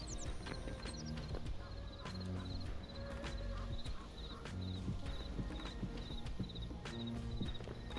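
Horse hooves clip-clop steadily in the video game Hytale, a rapid continuous patter of hoofbeats with occasional game chimes and a brief whinny, fairly close.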